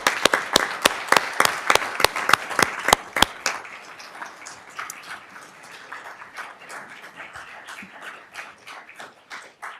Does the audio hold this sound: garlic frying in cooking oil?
no